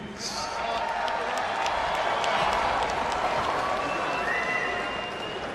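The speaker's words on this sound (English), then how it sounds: "A round of applause for the World Choir of the Philippines." Steady applause from a large boxing arena crowd, a broad continuous wash of clapping with some cheering mixed in, holding level before easing slightly at the end.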